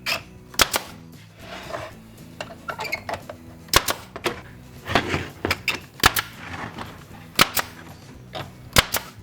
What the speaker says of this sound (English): just staple it on in